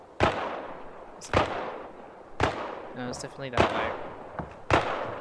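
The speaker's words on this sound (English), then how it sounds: "Maybe you can hear the gunshots now." Five sharp video game gunshot cracks ring out about a second apart, with a person talking quietly between them.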